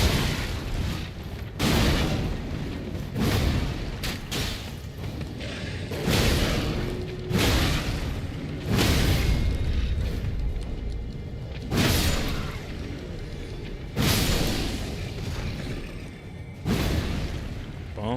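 Repeated heavy booms of bombs going off in Elden Ring, a series of loud broadband blasts with decaying rumble spaced every second or two, with no talk over them.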